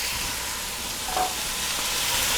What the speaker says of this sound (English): Okay, so we're going to let that sear